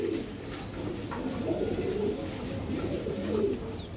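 Racing Giribaz pigeons cooing in soft, repeated low throaty calls close by, with faint background chirps and no talk.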